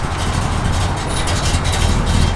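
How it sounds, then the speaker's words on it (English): A 1972 Chevrolet Chevelle V8 with a performance cam idles steadily with a deep, loping low rumble, close and continuous, with no voices. "Yeah, good sounding cam."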